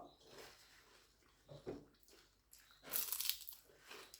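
Crunchy chewing of fried grasshoppers eaten with salmon, close and intimate, a few crisp bites and munching sounds at low volume with faint background noise.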